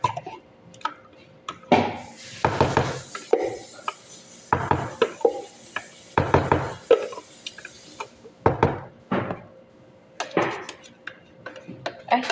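Dishes being washed: irregular clattering and clinking of plates and utensils in bursts, close and fairly loud, with some running-water hiss in the middle stretch and occasional speech in between.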